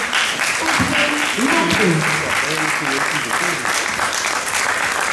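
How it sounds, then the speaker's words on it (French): Audience applause at a Guadeloupe regional event, steady and loud for the full stretch, with a voice speaking over the clapping. "Je vous demande d'applaudir."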